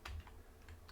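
Quick light keystrokes on a computer keyboard, a few close soft clicks in an irregular rhythm within a quiet room.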